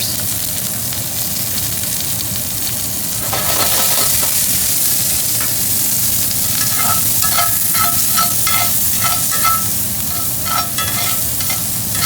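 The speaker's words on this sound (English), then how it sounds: "We'll start by adding in our chopped onions, garlic, mushrooms," Onions, garlic, mushrooms and hot peppers sauté in olive oil in a cast iron pan. A loud, steady sizzle is joined midway by rhythmic clinking stirs of a utensil against the pan.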